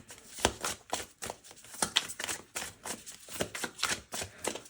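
Tarot cards are shuffled by hand in quick repeated riffles and flicks, a crisp rhythmic run of papery bursts heard up close with no talking.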